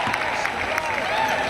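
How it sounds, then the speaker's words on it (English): Cheering section at a basketball game at The Rose Garden, a continuous crowd roar of yelling and clapping that stays loud and even under a commentator's talk. "As you can hear the cheering section over there, yelling out Fornoff"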